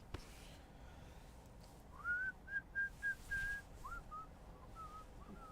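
A man whistles a short, wavering tune in the bathroom while he pees, a string of thin clear notes over a faint background hiss, with no talking.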